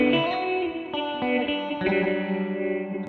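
A ring modulator fed by a square wave gives a dense, buzzing, metallic tone that glitches and shifts in random steps, continuous and fairly loud with no talking.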